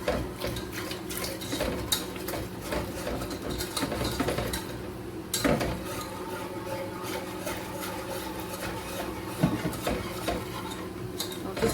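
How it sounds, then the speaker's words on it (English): A whisk working a lasagne sauce in a pan, continuous scraping and clinking against the metal with a steady busy texture, close and even in level throughout. "And I'm using a whisk as well."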